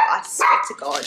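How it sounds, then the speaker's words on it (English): Dogs bark in short bursts close by indoors while someone talks over them. "Sorry about my dogs."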